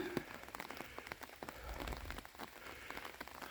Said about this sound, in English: Yes, and it is raining.